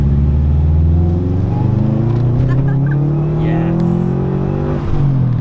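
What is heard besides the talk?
2013 Subaru WRX accelerating, engine revving while driving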